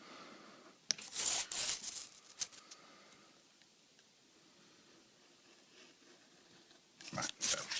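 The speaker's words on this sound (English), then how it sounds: "Carefully cut them out of the film." Decal film being cut out by hand, with short bursts of crisp slicing and tearing noise near the start and again at the end, separated by a quiet stretch of soft handling.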